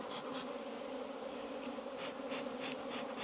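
Honey bees at an open hive colony produce a dense, continuous buzzing hum, close and steady, with occasional individual bees flying past the microphone.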